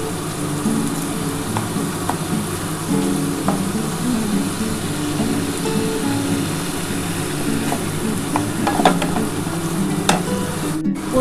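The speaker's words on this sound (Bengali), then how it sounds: "এবার ভালো করে আমি কষিয়ে নিচ্ছি" Tilapia curry masala with chilli powder sautéing in a pan, a steady close sizzle with scraping stirs and a few sharp clicks of the spatula, no voices, continuous throughout.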